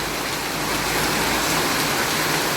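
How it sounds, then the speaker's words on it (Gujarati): Heavy monsoon rain pours down beside a house with a waterlogged yard, a dense, unbroken hiss filling the whole moment at close range. "હું અહીંયા વરસાદમાં ભીની થાઉં છું"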